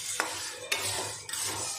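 Chickpea khasiya is stirred in a hot kadhai with the flame off, giving three sharp scraping strokes of the spoon across the pan over a soft, steady background hiss.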